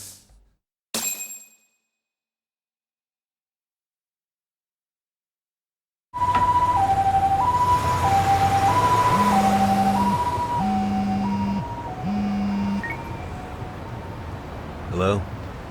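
After a short clatter and several seconds of silence, a loud ambulance siren in the video game Lost Judgment wails in a repeating two-tone pattern, close and continuous.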